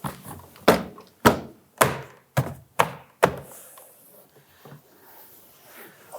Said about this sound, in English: we can work our way around the perimeter, bumping on our plastic retaining tabs,